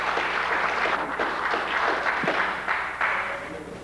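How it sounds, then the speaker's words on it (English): An audience in a lecture hall gives sustained applause, a dense continuous wash of clapping that stays loud and even for several seconds before easing slightly toward the end. "I appreciate your applause and your welcome"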